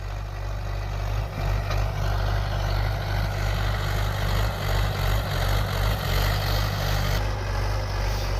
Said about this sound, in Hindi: ये महिंद्रा यूवो 585 तीसरे के मीडियम गियर में चल रहा है, नोनो डिस्क की हैरो पे।